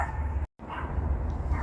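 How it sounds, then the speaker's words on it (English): A puppy barks and yips nearby in short, fairly quiet bursts over a low background rumble, with a brief dropout partway through. "It sounds like the puppy."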